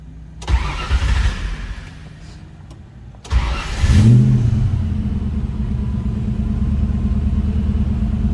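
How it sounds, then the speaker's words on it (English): A 1966 Ford Mustang Fastback engine cranks, catches and starts, then settles into a steady, loud rumbling idle close by; no one speaks. "Let's go ahead and fire this up so you can hear it run."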